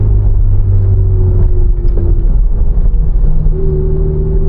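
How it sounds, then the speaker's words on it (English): Low, steady rumble of a Ferrari 488 Spider rolling over bumps in its bumpy road suspension mode, with a continuous engine drone and a dull road roar that stay loud and even throughout. "Let's go over some bumps."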